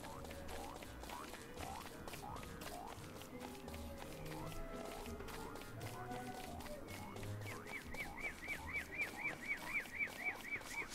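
Birds in the game Don't Starve, a busy bed of chirps and clucking calls over steady rhythmic game noise, with a run of quick repeated calls growing louder near the end.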